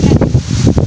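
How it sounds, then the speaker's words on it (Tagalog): Strong gusts before an approaching storm buffet a microphone outdoors by a river while fishing for tilapia, producing loud, rumbling wind noise that swells and dips in short bursts. "May parating bagyo kasi kaya ganyang malakas ang hangin."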